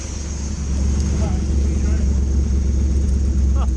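An old car engine idles, its thermostatic choke just disengaged, with a steady low rumble and throb, continuous and fairly close, with faint background noise over it.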